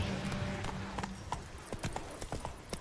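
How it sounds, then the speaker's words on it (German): Hooves clip-clopping from an excited horse in The Witcher 3, a run of sharp irregular hoof strikes over a low ambient bed, with a faint brief whinny early on and no talking. "Jetzt ist aufgeregt, wahrscheinlich weil das andere Pferd aufgeregt ist."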